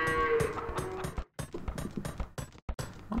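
A cow in the real-time strategy game Age of Empires 2 HD Edition moos repeatedly, its drawn-out calls standing out clearly over soft clicking interface sounds.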